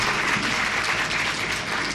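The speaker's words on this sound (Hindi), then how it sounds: "तो एक बार आप सब समवेत तालियों से मंच का स्वागत कर दीजिए" Audience at a two-day classical Hindustani music gathering claps steadily in welcome of the stage, a dense, even wash of applause filling the space throughout with no pauses.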